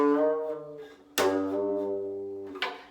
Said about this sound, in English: a slide will sound kind of like this